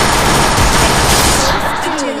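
G18 automatic pistol fire in a shooting video game, a dense, loud burst of rapid shots blurring into one harsh roar before cutting off near the end.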